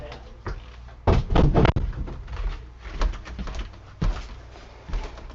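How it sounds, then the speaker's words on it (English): A household door is pushed shut indoors, giving a few close knocks and thuds, one sharper bang near the middle, amid handling noise and faint background sound. "I'm going to close my door."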